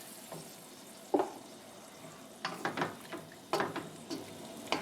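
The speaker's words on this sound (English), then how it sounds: "Give this a good mix." Heavy cream being stirred into a brandy cream sauce in a hot pan, giving soft scraping and gentle sizzle with a few short, spaced bursts of spoon strokes, close and fairly quiet.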